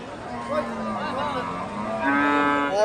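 Local cattle at a rural cow market low repeatedly with loud, drawn-out moos, heard close by over a steady hum of people talking around them.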